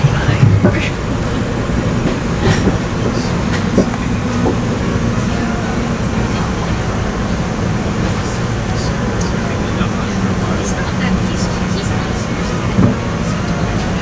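Amtrak's original Acela Express train pulling into Wilmington Station in Delaware, a steady loud rumble of rolling wheels and car noise heard from on board, with faint voices in the background.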